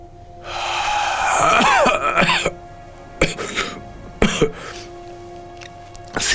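A man coughs and clears his throat in harsh, raspy bursts while smoking a cigarette to bring the cough up. One long, rough stretch is followed by several short, separate coughs at close range.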